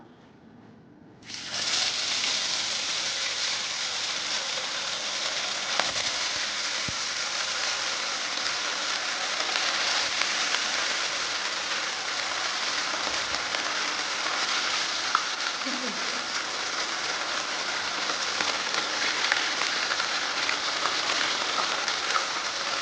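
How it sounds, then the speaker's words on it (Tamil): Fish fried in well-heated oil gives a sudden, loud burst of hissing sizzle that holds steady and continuous at close range, with no talk. "எண்ணெய் நல்லா ஹீட் ஆகிடுச்சு இப்போ ஃபிஷ்ஷை போட்டுடலாம்"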